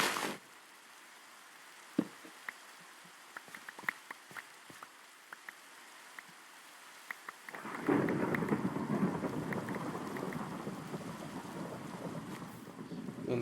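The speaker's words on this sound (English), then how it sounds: "I'm kind of sick of the lightning" Steady heavy rain pours through a video game thunderstorm with lightning, loud and continuous in the second half, after a quieter stretch of scattered cracks and drips near the start.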